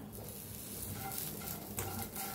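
Chili, garlic and ginger dry-roasting in a pan on a gas stove as spice paste for masala ridge gourd, giving a steady soft sizzle with light stirring scrapes throughout, close and continuous with no talk.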